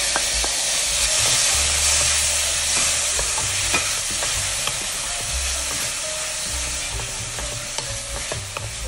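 Onions and tomatoes sizzle steadily in a hot pan, a dense continuous hiss with occasional stirring scrapes and clicks, close and alone without talk.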